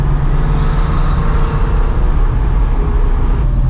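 A stock Porsche 993 C4 engine pulls hard on a test drive, a loud, steady low drone heard from inside the car that holds level throughout.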